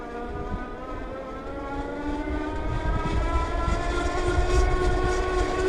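A continuous electric folding bike motor drone, a Blix Vika+ Flex climbing a steep hill, with a buzzing rattle, steady and fairly loud, rising slightly in intensity over a few seconds, with no talking.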